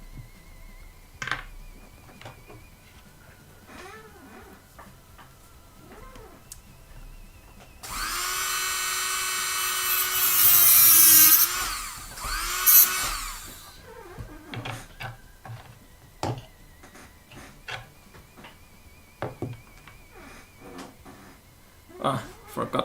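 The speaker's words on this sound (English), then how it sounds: "I just used my micro drill to shorten the screw." A micro drill shortens a small adjustment screw during miniature crafting: a loud, high, steady whine lasts about five seconds in the middle of the clip, with quieter tapping and handling noises and some talk before and after.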